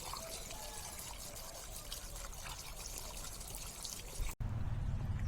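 Running water trickles and pours steadily to rinse slime off a money-bag plant cutting, a soft, close splashing that breaks off briefly near the end before resuming.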